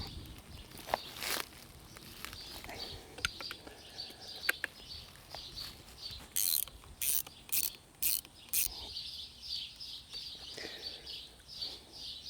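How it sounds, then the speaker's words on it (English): A 3/4 wrench loosening the packing nut on a Woodford Y34 frostproof hydrant, heard as a series of quiet metallic ratcheting clicks and clanks with a quick burst of sharp clicks partway through, against faint outdoor ambience. "So using a 3/4 wrench, let's go ahead and pull that open."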